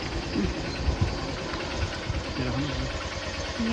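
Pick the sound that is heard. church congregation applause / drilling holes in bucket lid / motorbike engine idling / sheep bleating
motorbike engine idling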